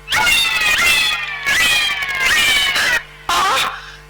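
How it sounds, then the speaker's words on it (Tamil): A cat meows loudly and close in long, drawn-out wailing calls, three sustained meows followed by a shorter one, with no voices over them. "என்ன நான் குடிக்க வேண்டிய பாலை பூனை குடிச்சுக்கிட்டு இருக்கு?"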